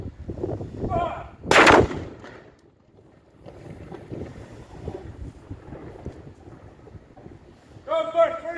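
A ceremonial cannon fires in a gun salute at Guernsey, one sharp loud blast that rolls away outdoors in the wind, with a commanding voice shouting orders before and after the shot.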